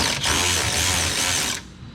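A bolt is backed out on a Rush SR with a ratcheting wrench, giving a steady, close mechanical whir and rattle that stops abruptly, with no talking.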